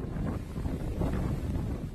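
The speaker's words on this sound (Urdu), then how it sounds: "طوفان ڈورین پانچویں درجے کا خطرناک سمندری طوفان ہے۔" Hurricane Dorian's strong wind roars steadily across the Bahamas, a loud, unbroken rush of gusting noise with no voices.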